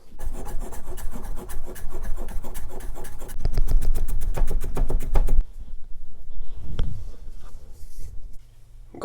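A knife slices through fresh ginger on a cutting board, a quick run of close, crisp rhythmic cuts followed by a few slower, separate chops, with no one talking.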